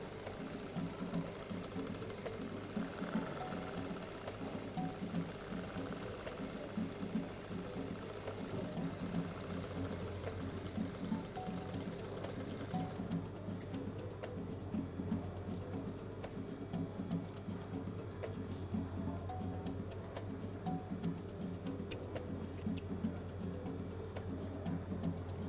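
A sewing machine stitching the long sides of a fabric shopping bag, running with a steady, rapid mechanical rattle and hum that continues without pause.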